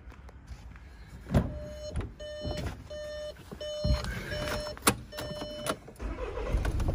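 A 2013 Audi Q3 2.0 TDI S Line with a seven-speed S tronic automatic starts up, with a repeated electronic chime over mechanical clunks and a rising engine rumble close by.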